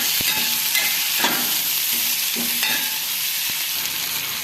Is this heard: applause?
no